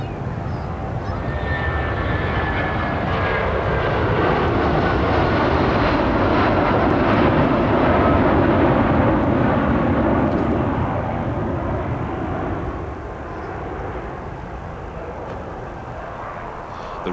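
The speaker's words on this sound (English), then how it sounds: "This may be the shape of things to come, a Russian plane with British engines." A Tupolev airliner fitted with Rolls-Royce RB211 jet engines flies past at the Farnborough air show, a loud roaring jet sweep that swells to a peak midway, then fades into a distant rumble.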